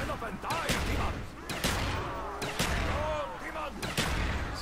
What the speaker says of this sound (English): So now I spam one bullet at a time.